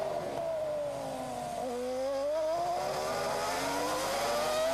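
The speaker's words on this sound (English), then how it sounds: "You can hear the traction control working on the engine. That sound as if the engine's misfiring" A Toyota Formula 1 car engine at the hairpin of the 2002 Canadian Grand Prix, its pitch dipping under braking, then rising as it accelerates away with the stuttering, misfire-like note of traction control.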